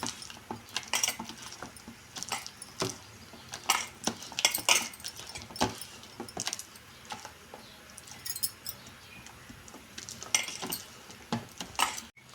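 A spoon stirs batter in a bowl for eggplant bajji, making a steady run of light clinks and scrapes against the bowl, with no talking.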